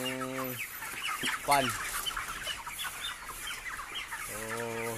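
Large chickens on a hot poultry farm cluck repeatedly nearby, with short bursts of throaty calls at the start, middle and end over a constant farm hum, while a voice briefly speaks.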